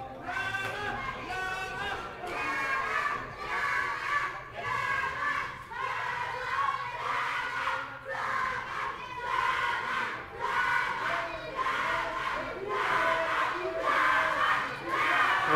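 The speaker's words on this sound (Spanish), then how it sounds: "Vemos el grito ensordecedor por parte de todo el gimnasio El Con Galáctico en apoyo a Flama de Plata." A huge crowd fills a lucha libre wrestling gymnasium with a deafening rhythmic chant and shouts in support of a wrestler, rising and falling in waves for the whole stretch, with no separate speaker over it.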